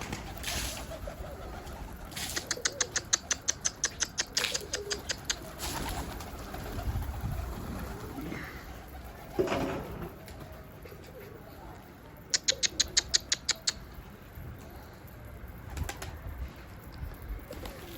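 Soft pigeon cooing mixed with bursts of rapid clicking and flapping, over a steady outdoor hiss.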